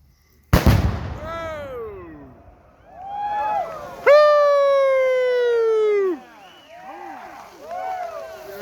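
A Tannerite exploding target detonates with one sharp, loud boom on an outdoor shooting range, followed by people whooping and talking excitedly.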